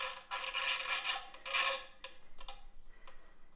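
Ukulele string pulled tight into a knot, several close squeaky rubbing scrapes followed by a few faint ticks and creaks as the string settles.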